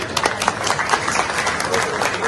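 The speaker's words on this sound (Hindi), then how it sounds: "जोरदार ताली बजाओ भाई।" Crowd applause at a public ceremony honouring couples on Sardar Patel's 150th birth anniversary, a brisk wash of many hands clapping steadily and fairly close.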